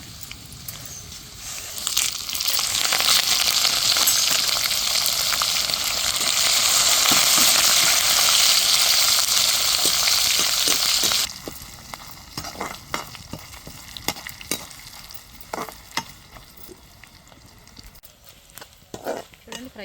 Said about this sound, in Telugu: ఇప్పుడు ఇవి వేసేసుకుందాం. జీలకర్ర, కరివేపాకు, ఆవాలు,